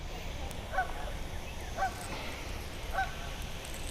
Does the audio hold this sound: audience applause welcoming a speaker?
no